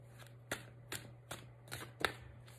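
An oracle card deck (coup de cœur) is shuffled by hand in five quick, evenly spaced riffling bursts, close and fairly quiet over a low steady hum.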